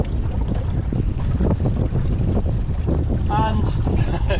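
Steady, breezy southwesterly wind buffeting a sailboat under jib and mizzen while beating, a constant rushing roar across the microphone with water sounds underneath.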